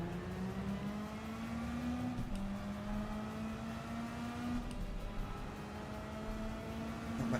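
A McLaren race car in a racing game drives hard, its engine a steady high drone rising and shifting in pitch across the clip, with another car's tone faintly present and no voices.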